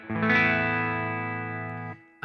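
A clean electric guitar chord rings out through a Strymon Sunset pedal into a modified Artist 60 amp with reverb, sustaining evenly for about two seconds before being cut off, followed by a brief fresh attack.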